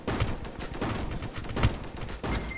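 A shotgun fires in the online shooter game 1v1.LOL, a few loud, punchy blasts in quick succession over busy game sound.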